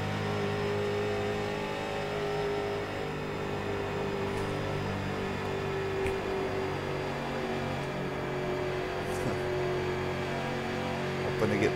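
Street stock car engines drone together at Charlotte Motor Speedway in iRacing, a steady layered roar of several mid-pitched motors holding constant throttle with no break.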